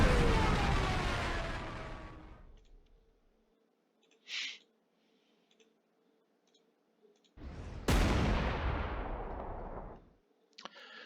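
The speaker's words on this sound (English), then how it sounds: "I have to dive bomb these tanks" Dive-bombing attacks on tanks in the Panzer Corps 2 strategy game land as two loud crashing explosion bursts that decay over a couple of seconds, with a brief clicking sound between them.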